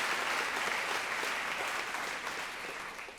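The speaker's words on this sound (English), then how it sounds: "Clap if you think this was Margaret Atwood." Steady clapping from a live audience at a Washington, DC show, a dense wash of many hands that starts full and slowly fades over a few seconds.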